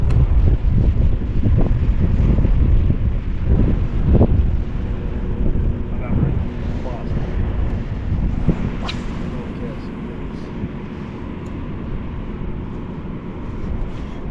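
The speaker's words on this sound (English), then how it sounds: "The wind can keep me from going right." Steady wind buffeting the microphone throughout while fishing from shore after a storm, a loud low rumbling roar with occasional gusts and faint background sounds.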